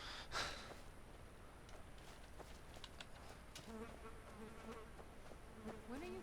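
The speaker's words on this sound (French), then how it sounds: "ce qu'on entend, c'est des mods rajoutant plusieurs sons, dont la mouche, qui m'écoeure" A faint, steady fly buzz in Skyrim, added by a sound mod, drones beneath quiet background noise, with a soft breathy sound near the start and a few light clicks.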